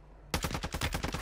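Rapid automatic gunfire in Warzone 2, a burst of loud, closely spaced shots starting abruptly after a near-silent moment and continuing in a steady rattling rhythm.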